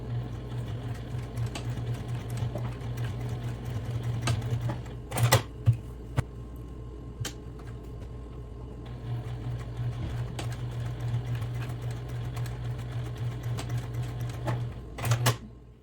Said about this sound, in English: we're going to take it to the sewing machine, and then we are going to stitch across to create that box corner